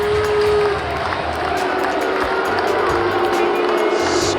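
A stadium crowd of 37,000 roars continuously, a dense, loud wash of massed voices with faint tonal chant-like strands running through it.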